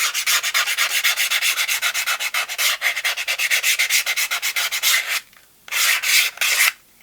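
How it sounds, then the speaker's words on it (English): Hand sanding to roughen a surface before gluing an insert, a loud close rhythmic scrubbing of quick back-and-forth strokes, with a brief pause near the end before a few more strokes. "We're going to roughen this up a little bit."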